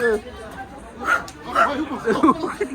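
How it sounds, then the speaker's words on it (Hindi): A dog yaps and barks several times in quick bursts amid overlapping chatter and voices nearby, during a dog fight on Shastradhara Road in Dehradun. "वो तो कुत्ता बोल रहा है"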